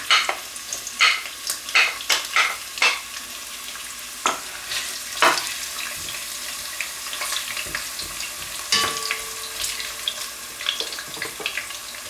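Julienned onion dropped into hot oil for a squid stew, sizzling and frying steadily up close with sharp clatters of stirring and scraping, plus some running water from a tap.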